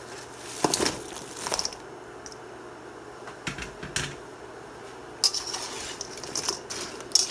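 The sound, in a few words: pork being coated in reduced honey sauce in a pan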